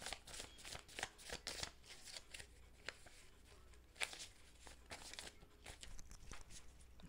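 Oracle cards being shuffled by hand, a long run of quiet crisp riffling and slapping bursts at an irregular rhythm, close and faint, without talk.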